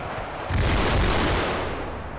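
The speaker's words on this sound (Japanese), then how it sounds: "すごい音。 鉄砲撃ったり撃たなかったり。" Soldiers fire guns in a massed battle in Ultimate Epic Battle Simulator 2, a dense, loud roar of overlapping gunshots and booms that swells suddenly and holds as a continuous wall of noise before easing slightly.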